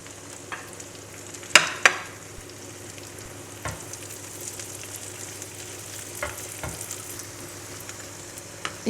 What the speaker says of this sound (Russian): Сейчас немного обжарим, буквально 2 минуты вот в таком состоянии